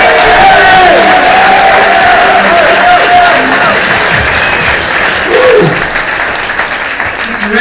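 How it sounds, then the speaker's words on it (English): A large crowd at a stand-up comedy night claps and cheers loudly and steadily, with scattered shouts and whoops rising out of the dense applause before it slowly thins toward the end. "A round of applause already and I haven't even done anything."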